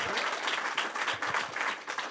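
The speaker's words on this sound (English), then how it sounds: "Round of applause for Joe T." Audience applause at The Compound and Friends live event in New York City, a steady burst of clapping from a crowd that fills the whole moment at moderate volume.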